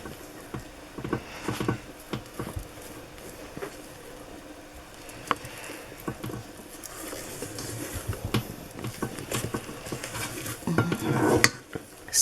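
A whisk beating jaffa cake batter in a bowl, giving irregular clinking and tapping of metal against the bowl, close and moderately loud with no talking.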